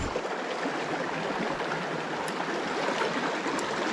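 Water from a small mountain creek flows and babbles steadily close by, a continuous broadband rush with no talk.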